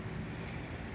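The flooded Housatonic River rushes past at about four feet deep, a loud, constant roar of churning water with wind-like turbulence and no pauses.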